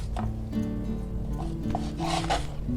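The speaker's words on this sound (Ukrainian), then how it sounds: "Все, тепер ріжу ножем на шматочки" A knife slices rolled dough filled with ham and cheese into pieces, giving soft rasping cuts and light taps on a board, close and fairly quiet.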